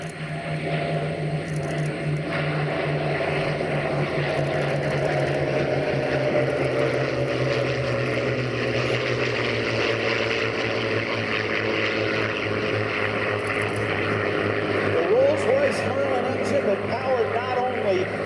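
Propeller fighters, a P-51 Mustang, a Supermarine Spitfire and an F4U Corsair, fly past in a five-ship formation, their engines a steady droning roar that swells and fades over the whole stretch while a voice talks over it.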